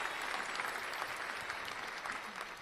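Applause from a small podcast studio audience, a dense continuous patter of clapping that holds steady for a few seconds and then thins slightly toward the end.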